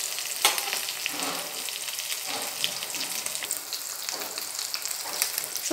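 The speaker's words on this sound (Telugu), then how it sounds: "గోల్డెన్ కలర్ వచ్చేదాకా మరీ డీప్ ఫ్రై అవుతుంది, గోల్డ్ కలర్ వచ్చేదాకా వేయించండి" Soya chunks (meal maker) deep frying in hot oil for Manchurian give a steady close sizzle, broken by occasional stirring scrapes and bursts, with no talking.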